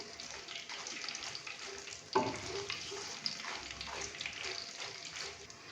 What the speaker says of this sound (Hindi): अभी मैं इसके अंदर 4 अदद साबुत लाल खुश्क मिर्चें और 4 अदद सब्ज मिर्चें डालूंगा।